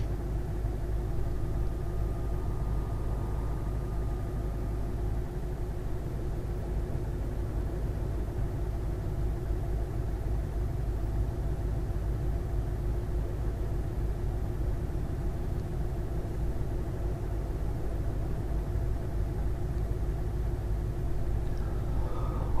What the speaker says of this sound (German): Dieser Rennwagen-Sound passt wirklich nicht zum Skoda Diesel.